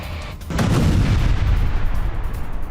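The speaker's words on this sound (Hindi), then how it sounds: "ओडेसा की मल्टी स्टोरी रिहायशी इमारत से टकराया ड्रोन धमाके के बाद पूरे इलाके में अफरा तफरी" Explosion after a drone struck a multi-storey residential building in Odesa: a loud, heavy low boom bursts in and rumbles on for a couple of seconds.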